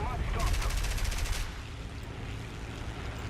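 Rapid machine-gun fire from a fighter plane in War Thunder, a dense burst of rattling shots in the first second and a half, then fading into steady engine and wind noise.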